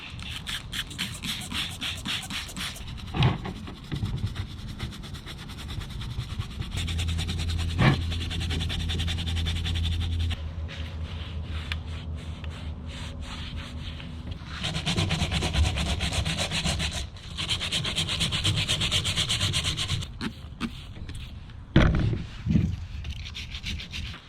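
A dirty, gunk-covered used Subaru Forester XT car part is scrubbed clean in rapid, continuous bristly rubbing strokes, close up, with a few brief knocks and pauses and no talking.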